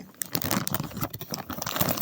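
A plastic bag of packaging being unpacked up close, with continuous crinkling, rustling and crunching in irregular bursts, no talking over it.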